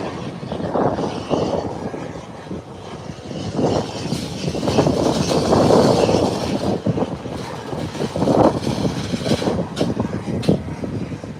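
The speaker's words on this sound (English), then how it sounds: "the ATR 72 is making its 180-degree turn at the threshold" An ATR 72 turboprop turns at the runway threshold, its propeller engines droning loudly and continuously, rising and falling in intensity as the aircraft swings around.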